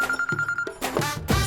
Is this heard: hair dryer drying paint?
no